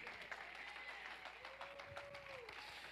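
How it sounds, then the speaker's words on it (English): A Pentecost Sunday church congregation claps hands in a quiet, faint scatter of applause, with a voice and a sustained tone rising under the clapping. "Clap your hands for the east wind."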